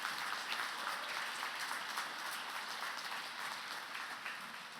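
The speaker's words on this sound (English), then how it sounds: "I think that deserves a huge round of applause." Audience applause at a college convocation ceremony on a campus, a steady, dense wash of many hands clapping that fills the hall at even loudness throughout, with no voices over it.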